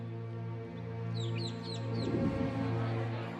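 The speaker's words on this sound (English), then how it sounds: "The gymnasium that hosted rowdy games is now home to birds." Birds in an abandoned gymnasium give a short run of quick, high chirps over a low, steady hum, fairly close and fading after a few seconds.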